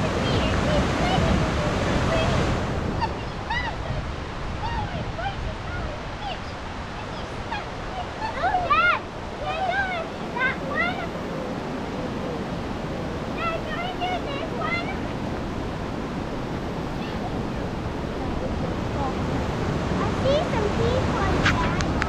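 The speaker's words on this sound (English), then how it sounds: "This is a nice stretch of the fall zone called the Hollywood Rapids" Rushing water of the Hollywood Rapids in the James River fall zone gives a steady, broad roar mixed with wind buffeting the microphone, with bird calls and chirps scattered through it.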